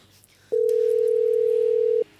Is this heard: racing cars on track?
no